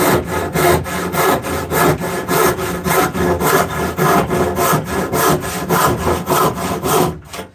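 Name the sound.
saw cutting wood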